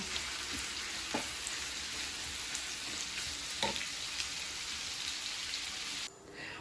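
Ground meat sizzles steadily in a hot pan, a continuous crackling hiss with a few soft clicks of stirring, cutting off near the end.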